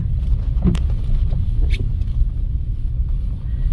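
A truck rolls off pavement onto an unpaved forest road, its engine a steady low rumble with wind buffeting and a few faint scattered clicks and rattles.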